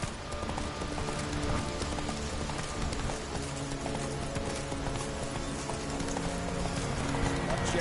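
Roach the horse galloping in The Witcher 3, rhythmic hoofbeats layered under a dense game mix of music and ambience, continuous and moderately loud throughout.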